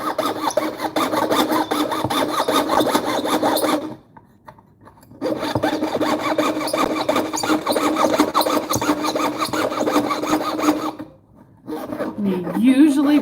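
A thin hardened steel blade saws by hand in quick, even rasping strokes, running for several seconds, pausing, resuming, then pausing again, with a voice briefly heard near the end.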